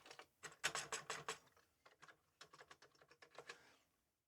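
Rapid clacking of keys on a Commodore 64 keyboard, a quick burst of typing, a short pause, then another run of keystrokes, close and crisp.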